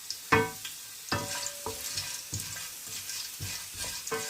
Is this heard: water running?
no